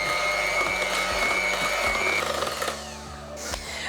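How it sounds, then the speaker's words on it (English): An electric whisk beating cake batter with plain yogurt for a rhubarb and cinnamon cake, a loud close motor whir with shifting pitch that eases off toward the end. "you can probably see here why I use the electric whisk, because it means that it gets better aeration"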